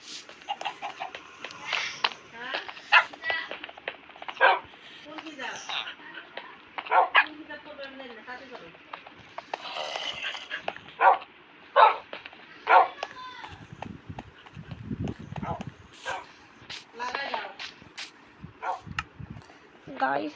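Dogs in the video game Minecraft bark and yip in many short, sharp bursts throughout, mixed with other game noises while a person talks.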